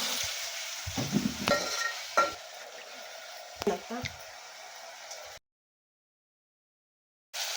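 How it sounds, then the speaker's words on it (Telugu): Tomato rasam cooking in a pan, stirred with a soft sizzle and a few scraping, clinking strokes. A person talks over it, and the sound cuts out briefly near the end. "అంతలోకి మాడిపోతున్నది, నేను కలుపుతున్నా."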